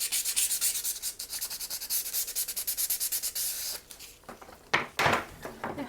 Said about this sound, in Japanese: 側面はここやすります。